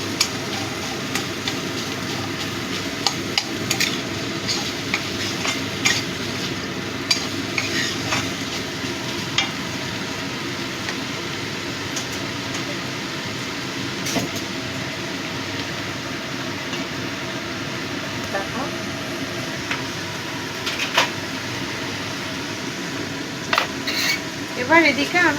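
Prawns frying in a pan, with a steady close sizzle and frequent light scraping and clinks of a utensil against the pan throughout, no voices.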